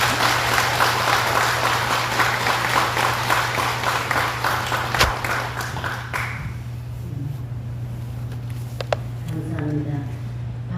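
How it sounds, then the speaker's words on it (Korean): An audience at a Buddhist dharma service applauds a visiting monk teacher: a steady, dense clapping that fills the first six seconds, then thins out and fades to a few scattered claps. "훌륭한 법사스님께 큰 박수 부탁드립니다"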